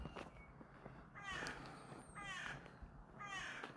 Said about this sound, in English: Corax the raven.